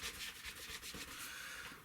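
A pen rubbed back and forth over the surface of a Trumpeter 1/32 scale model aircraft wheel, a close, soft repeated scratchy rubbing in short strokes, with no talk.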